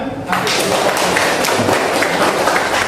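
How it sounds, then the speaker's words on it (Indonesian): Students in a classroom clap their hands together in a steady burst of applause, lasting a few seconds at a close, even level. "Oke, tepuk tangan"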